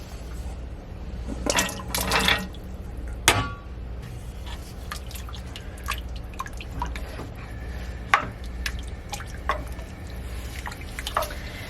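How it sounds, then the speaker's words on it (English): Potatoes going into a pot of lentil stew make a few close splashes and clunks early on, followed by sparse drips and light clatter in a quiet kitchen. "I'm gonna add in our potatoes."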